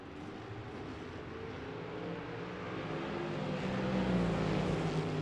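A Camaro drag racing car at a Las Vegas drag strip drones with a steady engine tone that grows louder toward the end, heard from a distance.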